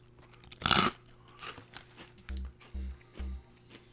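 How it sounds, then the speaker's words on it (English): A crunchy Russian snack with a beef-roast smell snaps loudly in one sharp bite up close, followed by several softer rhythmic chewing crunches. "it's crunchy. It's really crunchy."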